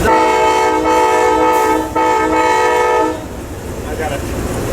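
A loud, sustained train horn chord blares on an Amtrak training simulator for about three seconds, with a short break in the middle, then cuts off, leaving rumbling cab noise.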